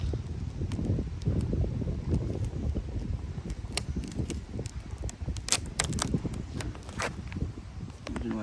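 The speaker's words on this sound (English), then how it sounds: "It is quite windy today" Gusty wind outdoors buffets the microphone with a steady low rumble during work on a Honda Civic EG, punctuated by scattered sharp clicks and handling knocks, no speech.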